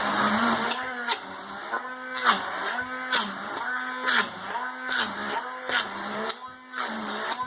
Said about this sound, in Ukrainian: Беремо блендер і все збиваємо.